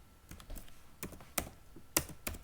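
Quick, uneven clicks of a computer keyboard as code is typed into a Jupyter notebook, several light key taps in short bursts with a few sharper strokes, close and clear with no talking.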